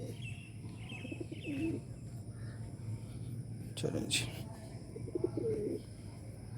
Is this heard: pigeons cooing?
yes